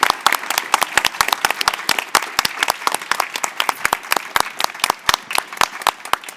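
An audience at an art fair talk claps steadily, a dense burst of many hands close by, with no cheering and no voices.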